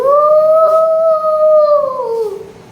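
A child imitates a jackal's howl in a classroom animal-sound game, giving one long, steady, loud howl that slowly falls away at the end, alone with no other sound.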